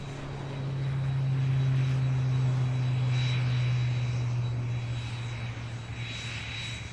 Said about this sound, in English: Cessna 172 Skyhawk.